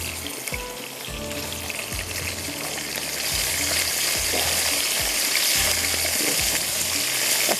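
Small pieces of potato fry in a pan over high heat for aloo shimla mirch sabzi, a bright steady sizzle that grows louder midway, with soft thuds of stirring underneath and no voices.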